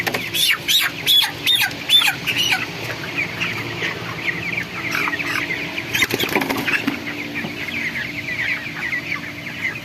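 Chickens on a poultry farm cluck and squawk steadily, with a few louder calls and a burst of wing flapping partway through, close and busy throughout.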